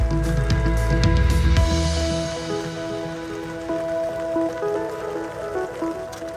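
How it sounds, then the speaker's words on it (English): Rain patters steadily on surfaces in Yosemite National Park, a soft continuous wash of drops with heavier low rumble in the first seconds before settling. "woke up the next morning to low clouds and rain"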